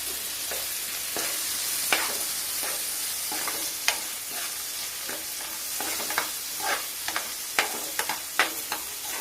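Onions frying in a pan until brown for a mutton keema pizza, a steady hiss of sizzling oil with scattered scrapes and taps of a spatula stirring, close and continuous.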